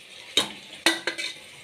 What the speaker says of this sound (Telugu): పప్పు అయితే ఫ్రై అయిపోయింది. టమాటా వేసుకున్నాను.